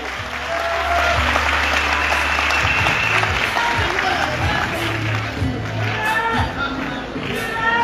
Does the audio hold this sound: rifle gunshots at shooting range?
no